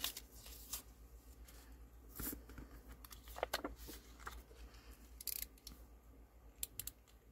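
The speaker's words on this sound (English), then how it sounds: "Yeah, I'm gonna have to trim those." Scissors trim paper planner stickers up close, producing a series of quiet, sharp snipping cuts at irregular intervals with faint paper rustling between them.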